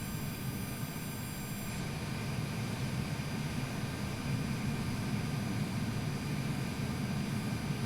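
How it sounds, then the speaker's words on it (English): Simulated jet noise of another plane taking off in Microsoft Flight Simulator near Jacksonville, a steady broadband engine roar with a constant low rumble and faint whine throughout, with no talking. "There's another plane taking off."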